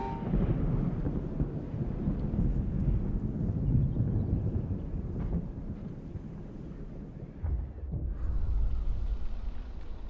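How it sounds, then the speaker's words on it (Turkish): Howling white storm wind sweeping a frozen settlement in the Frostpunk 2 video game, a steady loud roaring gust with low rumbling that eases briefly near the end before surging again. "Ak fırtına kapımıza geldi."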